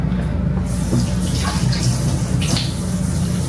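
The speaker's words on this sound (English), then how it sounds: "Gonna wash my cutting board." Tap water runs steadily over a cutting board being washed in a kitchen sink, a continuous close splashing rush with shifting scrubbing tones, no voices.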